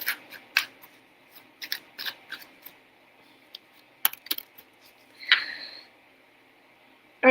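Tarot cards are shuffled during a live reading, giving a scattered series of crisp, close flicks and snaps in irregular bursts against a quiet background.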